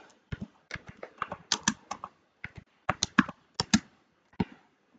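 Crisp clicks of a computer keyboard as an email subject is typed into Google Docs, coming in quick irregular bursts with short pauses between words, close and fairly quiet.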